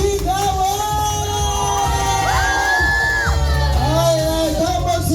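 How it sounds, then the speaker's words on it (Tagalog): Crowd at a child's seventh birthday party cheering, whooping and shouting loudly and continuously, with children's high voices rising above the noise. "Isang papalakpakan yung may kasamang sigawan!"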